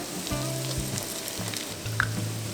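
Butter and flour sizzle in bacon fat in a pan, a soft steady frying hiss with a few stirring scrapes and clicks, close and moderately quiet, with no talking.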